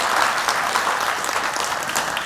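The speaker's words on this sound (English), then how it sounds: "A big applause for Khadar." Audience applause at a film festival Q&A in Gorinchem, Holland: dense, steady clapping from a full room, sustained and even throughout, with no talk over it.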